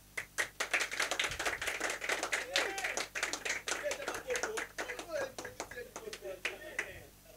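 Comedy show audience clapping in response to a comedian's question, sharp scattered claps from a modest crowd, irregular and fairly distant, with chatter and laughter mixed in.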